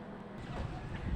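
Gusty wind on a balcony buffets the microphone with a low, roaring rumble, loud and continuous outdoors.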